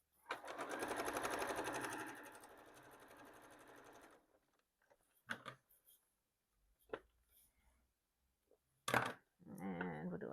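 A home sewing machine runs fancy decorative stitches on a Tula Pink pencil case project, a steady whirring burst for about four seconds, followed by scattered clicks and handling knocks.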